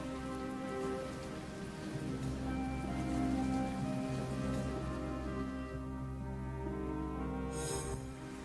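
Heavy rain pours steadily during a retelling of Noah's Ark, a dense, continuous hiss of drops on surfaces with no voices over it, holding at an even level throughout.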